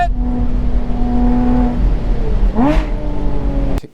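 A Porsche engine drones loudly under hard acceleration, then its pitch swoops upward in a sharp rising rev partway through before the sound cuts off abruptly. No one speaks.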